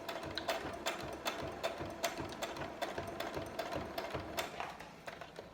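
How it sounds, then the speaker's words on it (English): A sewing machine runs steadily while back-stitching the end of a seam on a fabric face mask, its fine rhythmic mechanical clatter soft and continuous with regular ticking pulses. "when I get to the end, I'm going to do some back stitches"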